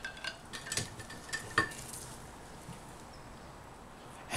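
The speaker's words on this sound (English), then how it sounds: "Let's first do my stirring" A homemade espresso-flavoured mixture being stirred: soft, faint scraping and a few light clinks of a utensil in the first couple of seconds, then the kitchen goes nearly quiet.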